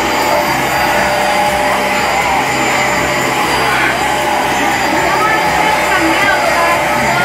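Vacuum cleaner running steadily on carpet in a home, a loud continuous broadband whir filling the whole stretch, with faint voices beneath it.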